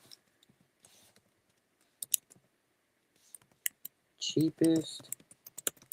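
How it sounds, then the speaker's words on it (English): Computer keyboard typing, scattered light clicks and short bursts of keystrokes close by, with a person briefly speaking over them partway through. "I'm typing in all caps like I'm yelling at the freaking world"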